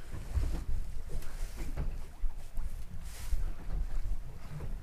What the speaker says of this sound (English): the old wind's picked up from down through the southwest now